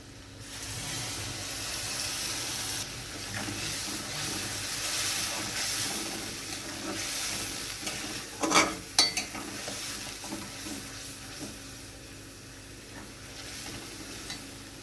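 Poppy seed paste and green chilli stirred into onions frying in a pan for katla posto, a steady sizzle and hiss with a few sharp scraping stirs midway.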